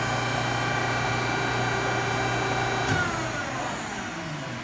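A hydraulic pump unit runs with a steady loud mechanical hum and whine, then the tone drops and fades slightly as it winds down after about three seconds.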